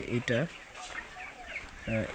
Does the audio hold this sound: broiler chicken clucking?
yes